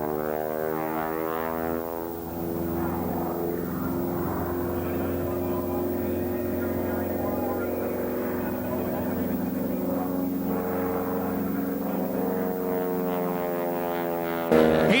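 An aerobatic propeller airplane flies an air show routine of loops and snap rolls, its steady droning engine loud throughout with shifting pitch and a voice commentating over it.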